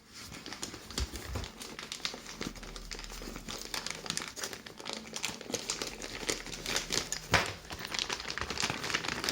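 Hard, tough plastic packaging around a Zenit KM Plus camera storage pouch crinkles and crackles steadily up close, with irregular sharp snaps over several seconds.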